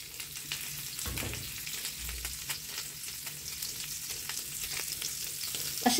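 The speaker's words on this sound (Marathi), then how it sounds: "आणि आपण शॅलो फ्राय करून घेणार" Ladyfish coated in rava sizzles steadily as it shallow fries in a pan, a close, continuous crackle with occasional stirring noises and no talking.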